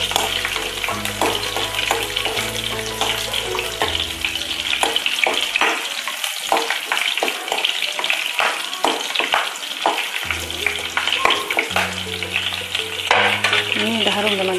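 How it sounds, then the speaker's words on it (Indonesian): Spices for Aceh oyster curry sauté in a pan with a continuous close sizzle and repeated scraping stirs, with steady music underneath and a brief lull near the middle. "Tumis sampai harum teman-teman ya."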